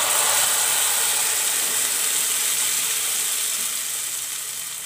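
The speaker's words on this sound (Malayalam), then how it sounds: "ഇനി നമ്മൾ മിക്സിയിൽ അരച്ച് വെച്ചിരിക്കുന്ന പരിപ്പ് ഇതിലേക്ക് ചേർത്ത് കൊടുക്കാം" Ground lentil paste hits browned onions in a pan for Kerala-style parippu curry, producing a steady, bright hiss of sizzling that slowly fades with no talking.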